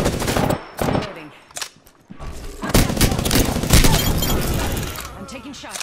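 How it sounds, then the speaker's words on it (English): Gunfire from the Apex Legends battle royale game on Xbox One rattles loudly in dense automatic bursts with impact cracks, nearly continuous after a short pause, mixed with game voice lines and talk. "I'm taking shots."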